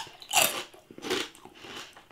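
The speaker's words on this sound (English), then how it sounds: "They're crunchy." Crunchy jalapeño-flavoured Danish pork rinds being bitten and chewed up close, three crisp crunching bursts spaced across two seconds with quiet gaps between, no talking.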